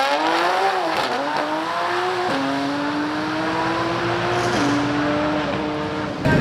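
A modified 2018 Audi RS7 on flex fuel launching down a drag strip, engine roaring loud and close as it climbs through rising pitches with distinct shift drops between gears, a tire squeal near the start.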